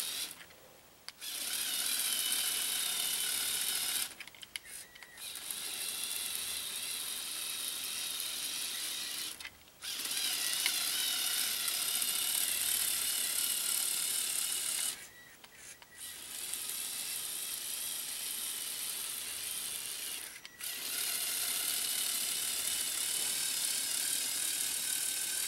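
Motorized Lego Technic Extreme Adventure kit with a Power Functions motor drives its gears in a steady clicking, ratcheting whir, running in long stretches broken by brief pauses, close and alone.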